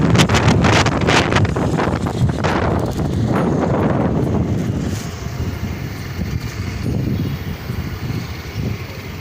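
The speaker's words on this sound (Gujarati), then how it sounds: "આજે સવારથી જ તાપ તડકા દરમિયાન ઠંડો પવન સુસવાટા સાથે આવતો હતો" Strong, cold wind blows dust outdoors, roaring and buffeting hard against the microphone in loud gusts that ease slightly toward the end.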